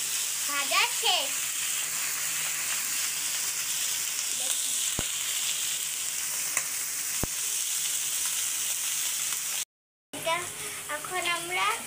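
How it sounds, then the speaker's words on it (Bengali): Onions fry to brown in a pan, giving a continuous close sizzle with occasional stirring scrapes and a couple of sharp clicks; a short silent break follows, and faint high voices sound at the start and end. "এখন আমরা পেঁয়াজটা বাদামি করে ভেজে নিলাম"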